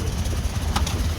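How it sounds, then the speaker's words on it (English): A car engine idling rough and misfiring after its ECM was cloned, a steady low rumble with uneven shake, close and loud with no talk over it. "the engine sounds a little strange to me still"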